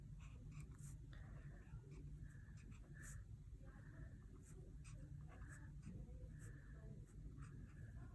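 Letters being traced by hand on paper with a pen or marker, a quiet scratchy writing sound in short repeated strokes, close and soft, alone.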